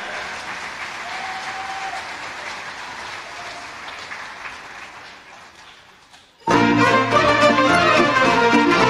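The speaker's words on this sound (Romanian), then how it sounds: "vreau aplauze pentru această minunată orchestră" Audience applause for an orchestra at a spring hit-parade concert, a steady broad wash of clapping that fades lower, then a loud band of music with strong low tones bursts in near the end.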